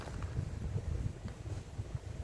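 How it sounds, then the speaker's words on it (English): Gusty outdoor wind buffets a microphone in a steady low rumble, loud and continuous throughout with slight surges, no voices present. "there's too much wind going on"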